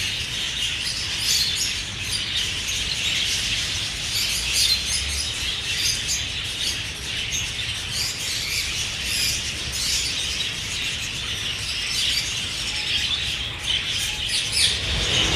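A dense, continuous chorus of chirps and squawks comes from pet birds in a breeding cage setup. The calls are steady and close throughout, with no pauses.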